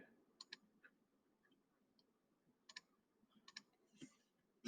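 Keys on a computer keyboard tap in short quiet clusters with pauses between, as an answer is typed in near silence.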